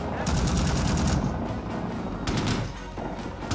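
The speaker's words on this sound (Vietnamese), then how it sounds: "Bắn quá trời luôn kìa." Video game gunfire from Rising Storm 2: Vietnam rattles in rapid, dense automatic bursts. The shots come loud and close, broken by a short lull and then a second volley.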